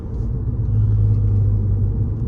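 Steady low rumble of an Audi A6 on the move, a constant close engine and road drone with no voices.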